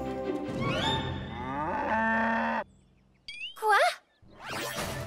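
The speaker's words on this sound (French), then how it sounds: "Salut les vaches à lait." Dairy cows in an animated Thomas and Friends scene give long, loud drawn-out moos, then a short pause, followed by brief higher bellows and another moo at the end.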